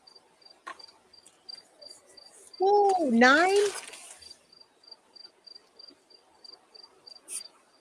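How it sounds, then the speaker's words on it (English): A cricket chirps in a steady, faint, rhythmic pulse throughout, briefly interrupted by a loud voice speaking up close before the quiet repeated chirping carries on. "I heard a cricket."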